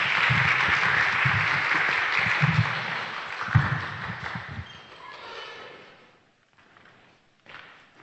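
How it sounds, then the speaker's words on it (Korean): Congregation in a church sanctuary applauding to welcome a pastor to the stage at a joint Wednesday worship service, dense steady clapping with thumps that swells, then thins and fades out near the end. "우리 목사님 나오실 때 크게 박수로 우리 환영하겠습니다"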